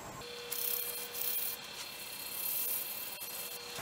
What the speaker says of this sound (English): All I'm going to do now is sand it.